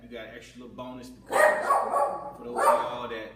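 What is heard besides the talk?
dog barking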